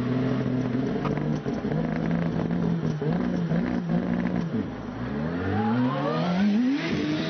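A turbocharged Hayabusa-engined hillclimb race car launches hard at a British Hillclimb Championship run, its engine note climbing through rapid upshifts in a loud, continuous, close-up roar that sweeps upward again and again.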